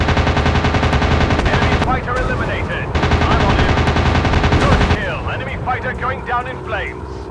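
Sustained bursts of machine gun fire from warplanes in a video game, loud and continuous rattling with short pauses, with an excited voice talking over the shooting.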